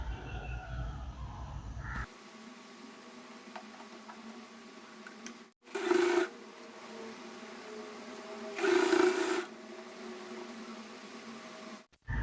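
Sewing machine stitching the hem of a blouse, running in two short bursts of steady mechanical whirring over a quiet background with a faint hum.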